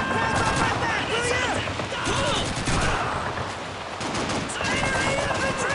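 Rapid gunfire bursts from a Call of Duty 2 battle scene keep up a dense, loud racket across the whole stretch, with shouted voices mixed into the chaos.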